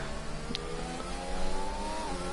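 A McLaren race car in a racing video game, its engine droning steadily with rising harmonic whine as it climbs through the gears, shift points marked by brief dips, loud and continuous.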